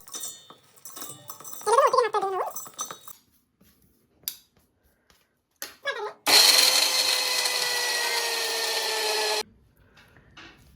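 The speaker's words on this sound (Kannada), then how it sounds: "ಇದನ್ನ ನಾವು ಮಿಕ್ಸಿ ಹಾಕೋಬೇಕು" A mixer grinder whirs loudly for about three seconds, grinding a roasted mixture for chocolate laddu, after brief scraping and handling noises, then cuts off abruptly into quiet.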